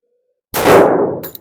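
A single pistol shot fired at a target during zeroing, one sharp, loud report with a short ringing decay and a small click just after.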